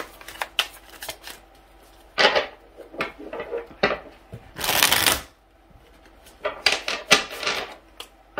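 Tarot cards are shuffled in quick riffling bursts, with soft taps and slides between, close and fairly quiet.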